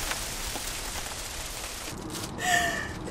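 Heavy rain pouring down with hail on a road trip, a dense steady hiss of falling water that briefly swells louder near the end, with no voices.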